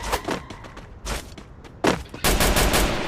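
Gunfire in the Garena Free Fire battle royale game, short bursts of rapid shots with thuds, near and fairly loud, ending in a sustained dense burst of automatic fire.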